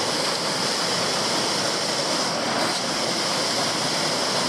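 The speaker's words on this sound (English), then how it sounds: "it's a really spectacular little waterfall" Water pours continuously in a loud, steady rush from a small waterfall dropping about 15 metres through a nook in cliffs into a pool, heard up close, with no other sounds.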